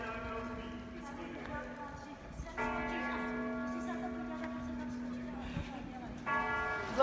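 The large Sigismund bell in a green church tower in Prague rings with a deep, sustained hum, struck again partway through and near the end, with people talking nearby.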